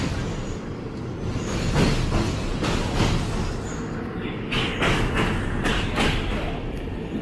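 A Thai overnight sleeper train from Yala stands at Bang Sue station, its rumbling carriage noise punctuated by several dull thumps and clanks amid a busy platform background.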